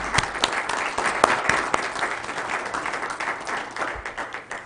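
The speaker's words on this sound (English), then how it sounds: "Let's give them all another round of applause." Another round of applause at a county commission meeting, a few sharp close claps over a steady spread of clapping from a modest audience that slowly fades.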